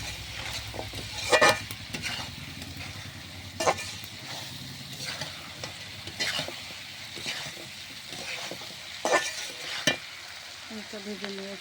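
Bottle gourd and chicken skin frying with salt in a pan, a steady sizzle with periodic stirring scrapes and a few sharper clatters, close and moderately loud, with no talking.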